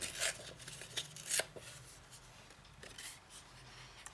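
Scissors cutting through paper for a scrapbook layout: a few close, quiet snipping and rustling strokes early on, fading into softer scraping and faint handling noises.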